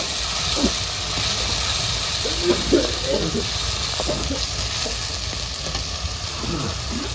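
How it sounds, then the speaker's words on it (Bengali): Fish curry masala fries in hot oil in a pan, a dense steady sizzle and hiss with intermittent stirring scrapes, while a voice murmurs faintly in the middle. "তো এখন মশলাটাকে কষাতে হবে ভালো করে।"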